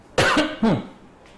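Two harsh coughs from a man teaching a class on Indian constitutional law, close and loud, a short gap between them, then a faint breath at the end.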